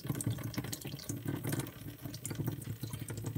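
Water runs steadily from a freshly installed RO/DI filter system feeding a reef tank, a continuous close splashing flow like a tap filling a container, with no voices.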